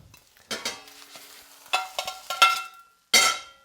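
Omelette cooking in a pan, with a few separate bursts of scraping, stirring and sizzling spread over a few seconds, fairly close and moderately loud, with quiet gaps between them.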